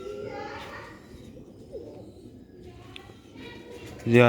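Sialkoti pigeons coo in soft, low, repeated calls, with faint outdoor background noise and a louder burst of sound at the very end.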